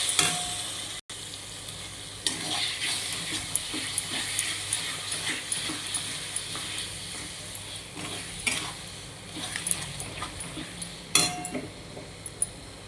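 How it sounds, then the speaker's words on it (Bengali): Turmeric, Kashmiri chili, kasuri methi, cumin and salt frying in a pan, a continuous close sizzle broken by scraping and clinks from a stirring utensil, with no talk. "একটু মশলাটাকে ভাজিয়ে নেবো এইভাবে"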